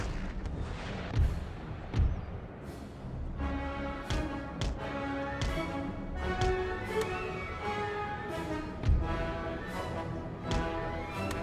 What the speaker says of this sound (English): Field artillery back here can shoot at those Swiss grenadiers.